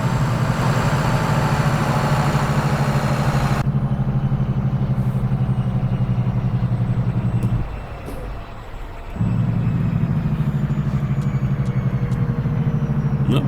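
A Mack Pinnacle truck engine idles steadily in American Truck Simulator, a loud low drone that holds for most of the stretch, briefly cuts out near the middle, then resumes at the same level.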